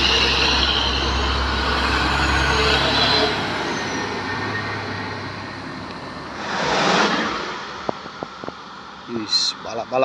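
A Putra Pelangi bus sweeps past on the road, its engine rumble and rush of air swelling and fading over a few seconds amid steady traffic noise, with a voice heard at times.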